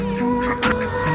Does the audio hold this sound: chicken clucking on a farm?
yes